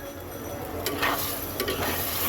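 Prawns and onions stir-fried together in a pan, giving a steady close sizzle with scraping stirs of a utensil and no talking.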